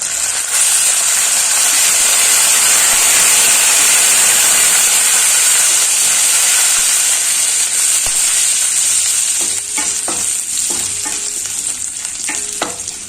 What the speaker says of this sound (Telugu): తాలింపులు వేగిపోయినాయి కదండి.